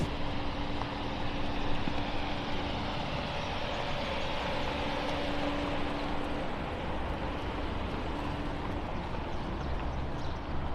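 Range Rover Autobiography being driven, a steady low road and engine rumble with broadband cabin noise, continuous and fairly quiet throughout with no talking.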